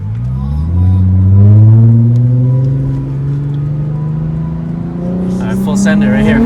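A Lexus IS car accelerates with a steady, rising engine drone, its pitch climbing gradually as the revs build, while people talk over it throughout.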